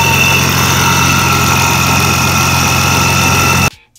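A modified Dodge Hellcat-style V8 car engine idles loud and close, a steady unbroken drone with even low pulsing, then cuts off abruptly near the end.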